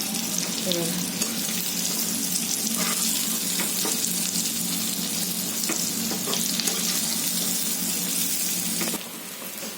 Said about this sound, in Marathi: आता मी ना हलवते मिरच्या